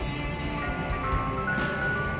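An ice cream truck passes close by, its chiming jingle ringing steadily over a low engine rumble, loud and near for the whole moment.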